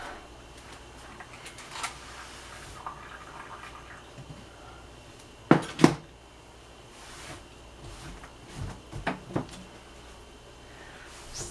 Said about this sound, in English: Just throw everything in the sink.